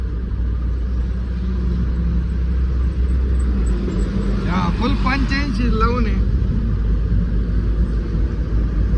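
A pickup truck cruises on a highway between Baramati and Ahmedabad, its engine giving a steady, loud low rumble with road noise throughout while someone talks over it.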